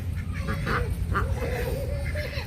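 Ducks give a few scattered quacks at moderate distance, over a steady low rumble of outdoor background noise.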